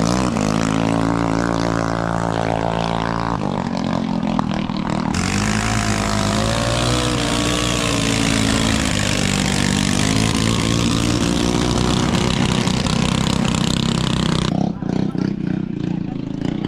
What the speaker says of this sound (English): Came here to watch some boats, man.